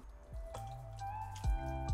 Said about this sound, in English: I'm gonna add a little bit more broth